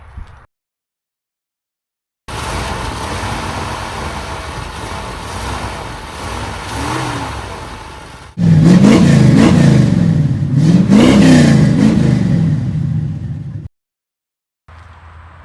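An old truck engine fitted with turn-down exhaust pipes idles roughly, then revs hard in loud, surging bursts close by, cutting off abruptly between takes.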